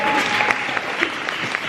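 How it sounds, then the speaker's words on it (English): A crowd applauds at an eighth-grade graduation ceremony, loud and close, with a dense patter of many hands and a few sharper individual claps standing out. "They deserve a round of applause."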